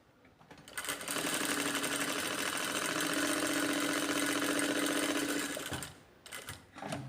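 A sewing machine stitches practice seams in fabric, a fast, even mechanical whir that starts abruptly, runs steadily for about five seconds, then stops, followed by a few brief clicks and handling sounds.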